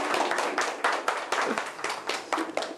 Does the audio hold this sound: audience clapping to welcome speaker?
yes